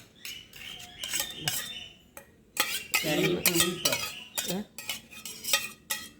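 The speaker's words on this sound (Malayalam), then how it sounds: "ഇനി ഉള്ളി ഇട്ടിട്ട് ഒന്നവനെ മയക്കിയെടുക്കട്ടെ" Onions sauté in oil in a pan for a grated coconut chutney, with loud metal spoon scrapes and clanks against the pan in irregular bursts over a faint sizzle.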